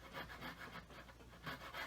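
A small hand saw cuts grooves into a small wooden car body with quiet, rhythmic back-and-forth rasping strokes, several in quick succession, close but faint and with no talking.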